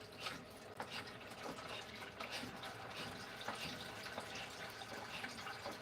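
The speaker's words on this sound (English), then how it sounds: "I'm going to refill your fountain." Water pours steadily to refill a cat water fountain indoors, a continuous splashing trickle with scattered drips, fairly faint and unbroken with no talk over it.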